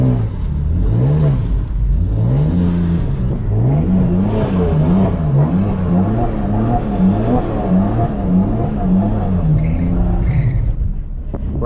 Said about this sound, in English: Right there, the car was just sliding